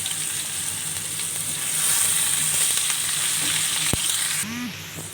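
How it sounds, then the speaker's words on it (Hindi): Garlic-ginger paste fries among browned onions in a pan, giving a loud, steady sizzle with a sharp clink of a utensil near the end and a short squeak just after; there is no talk. "अब मैं इसमें लहसुन अदरक का पेस्ट डाल देती हूँ, और इसको सही से हम जो है भूनेंगे"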